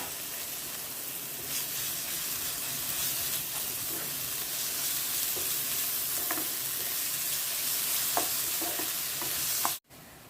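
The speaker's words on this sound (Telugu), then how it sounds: "ఉల్లిపాయ వేగేంత వరకు వేయించుకుందాము." Onions frying with ginger-garlic paste in a pan for a cashew and meal maker masala curry, a steady close sizzle and hiss with occasional stirring scrapes, ending abruptly.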